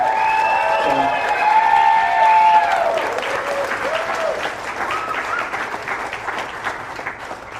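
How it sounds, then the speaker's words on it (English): A live audience applauds loudly for a guest on a radio morning show, dense steady clapping with scattered cheers that fades slightly toward the end. "So please give him a big round of applause"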